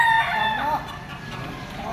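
A Boston sweater gamefowl rooster, white-legged with black hackles, crows loudly and close by in a single drawn-out call. It sounds over a busy gamefowl market backdrop in Padre Garcia, Batangas.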